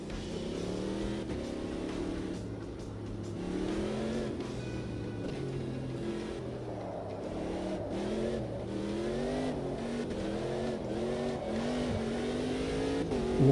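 Race car in a racing video game weaving at Old Hockenheim to warm its tyres, the engine rising and falling in pitch through repeated revs and gear changes, loud and continuous with no talking.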